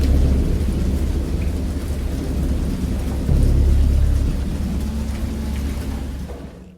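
A fierce thunderstorm with heavy rain pouring steadily and deep rolling thunder swelling in loud rumbles throughout, with no voices.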